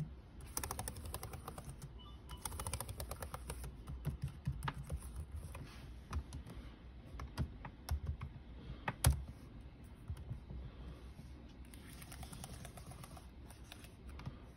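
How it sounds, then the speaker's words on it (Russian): Keys on a Lenovo ThinkPad X270 laptop keyboard clatter in quiet, irregular bursts of close, soft clicks, with a sharper tap now and then and no talking. "Сейчас продемонстрируем работоспособность клавиатуры"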